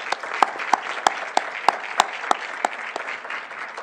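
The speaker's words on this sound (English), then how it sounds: "big round of applause for Richard Gerver" Applause at an education conference session, a crowd clapping steadily with a few loud, regularly spaced sharp claps standing out close by over the dense patter.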